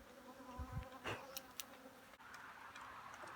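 Honeybees buzz close to the microphone, a faint continuous droning hum with a few louder passes as individual bees fly near, and no talk.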